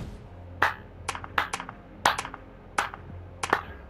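Slow clap emote in Fortnite: six or seven crisp, evenly spaced claps at a leisurely pace, bright and close, with no talking over them.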